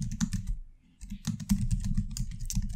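Rapid typing on a computer keyboard, dense clattering keystrokes close and clear, with a brief pause near the start before the tapping resumes steadily.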